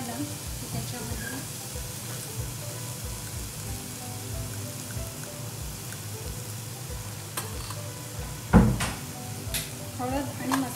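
Food fries steadily in hot oil in a pan while a Maharashtrian dish is cooked, giving a continuous soft sizzle with occasional clinks of a utensil, and a voice speaks over it.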